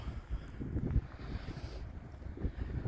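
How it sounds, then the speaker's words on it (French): Strong wind buffets the microphone at a paramotor take-off site near a beach in Corsica, a steady low roar with gusty thumps throughout and no talking. "ça souffle pas mal"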